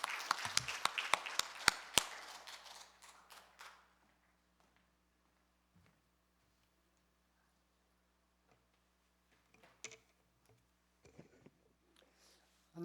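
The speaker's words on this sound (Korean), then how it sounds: "자, 박수 한번 하세요." Applause from a church congregation breaks out at once and fades over about four seconds, followed by near silence broken only by a few faint knocks and shuffles.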